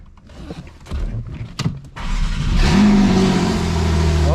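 Porsche 911 (991) starter cranking briefly after a few clicks and clunks, then the engine catching quickly and settling into a loud, steady idle close by.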